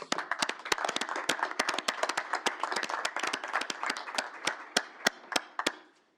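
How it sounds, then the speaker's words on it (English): A small crowd applauds, scattered sharp claps building into steady clapping that thins out and stops. "Round of applause."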